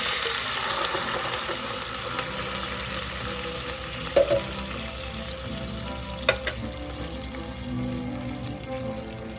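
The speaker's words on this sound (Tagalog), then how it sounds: "And next kong ilalagay ay hot and spicy tuna." Hot and spicy canned tuna fries in a pan for a creamy penne, a steady, close sizzle with occasional stirring clinks and scrapes.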